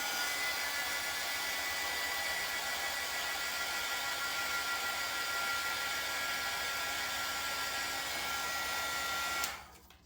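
A hair dryer blows steadily on a freshly made letter, a loud continuous airy roar that holds level for about nine seconds and then cuts off abruptly.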